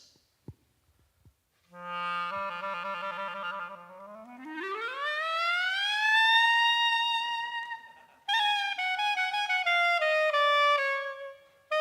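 A clarinet plays a reedy melodic opening lick with sliding, bending notes and ornamented turns, alone after a brief click, in a lively klezmer style.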